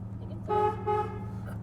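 A 1968 Chevrolet Caprice Estate Wagon's horn sounds two quick, loud toots over a low idling engine rumble.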